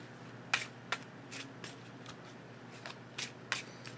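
Tarot cards are shuffled by hand in a quiet room, giving a series of crisp, close riffling snaps at uneven intervals about half a second apart, over a faint steady hum.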